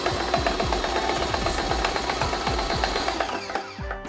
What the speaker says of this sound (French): l'appareil se met à trembler et bouge en cours de découpe